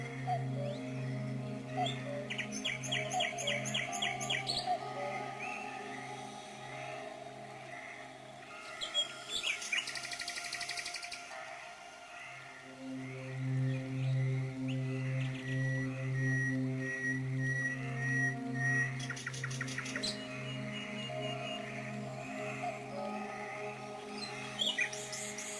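Blackbirds sing at dusk as night falls over Ploufragan, with bright, scattered chirps and warbling phrases rising over quiet, steady background tones in a calm evening setting.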